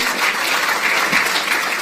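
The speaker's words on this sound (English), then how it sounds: "Give them a round of applause, please." Loud, dense applause from the crowd at a national youth awards ceremony, a close and continuous roar of clapping with no break.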